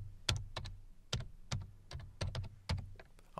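A command is typed into PowerShell on a computer keyboard: about a dozen crisp, close key clicks in short uneven clusters, with no voice.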